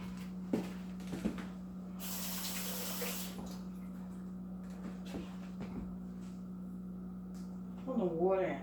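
Water runs from a tap into a container at home, a broadband rush lasting about a second mid-clip over a steady low hum, with a voice speaking before and after.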